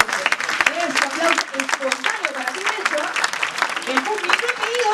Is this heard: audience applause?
yes